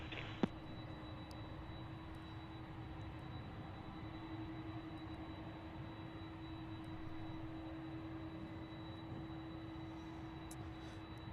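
Distant jet airliner arriving from Anchorage at an airport, a steady low engine rumble with a faint whine, quiet and continuous without talk.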